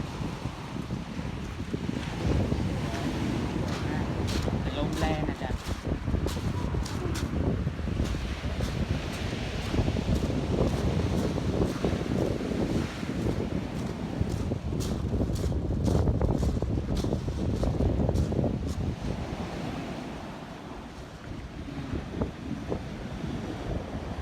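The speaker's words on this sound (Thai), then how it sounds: "น้ำทะเลแรงวันนี้" Rough sea waves break and roll at Thorupstrand beach in Denmark, a constant heavy surf roar mixed with gusting wind buffeting the microphone, loud and sustained with no voices.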